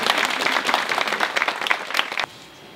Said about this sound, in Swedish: Kan inte han få en liten sån här varm applåd?